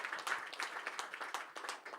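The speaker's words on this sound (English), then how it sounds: "Big round of applause for Krishna, looking fantastic in the white." Audience clapping at a press conference for the MFN 8 event, a steady patter of handclaps at moderate distance with no talk over it.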